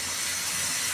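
A pot of pulao with rice and meat in hot water reaching a boil gives off a steady, even steam hiss for a moment, with no talking.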